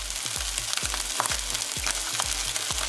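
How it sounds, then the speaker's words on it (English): An egg hits a hot pan of chicken fried rice and sizzles steadily, with a continuous crackle and regular low scraping knocks of a spatula throughout. "Now what you want to do is add the egg, so let's get the egg. Crack it on the side."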